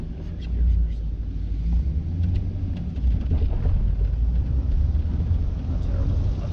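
A C6 Corvette with a manual gearbox pulls away in first gear, its engine a steady, loud low rumble heard from inside the cabin, with occasional voices over it.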